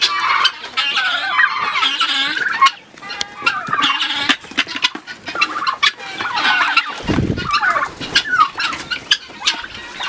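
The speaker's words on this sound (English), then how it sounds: "And it houses turkeys and guineas." Turkeys gobbling and guinea fowl calling together in a backyard guinea run pen, a busy, continuous chorus of overlapping chatter and gobbles with a brief low thump partway through.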